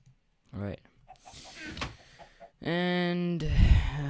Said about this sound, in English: And we also have some chicken farm, and over here is the cow farm